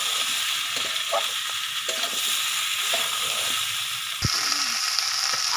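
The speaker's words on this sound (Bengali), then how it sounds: "এবার কেটে রাখা বেগুনগুলো দিয়ে দিচ্ছে তেলের মধ্যে। বেগুন আলু সব একসঙ্গে ভালো করে ভেজে নেবে।" Eggplant and potato pieces fry together in hot oil for a fish curry, giving a steady close sizzle broken by a few light stirring clinks and one sharp knock near the end.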